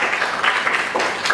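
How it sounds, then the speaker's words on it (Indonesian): Classroom applause for a presenting student group, a brief burst of many hands clapping at close range, steady and dense across the whole moment. "beri tepuk tangan untuk kelompok 3"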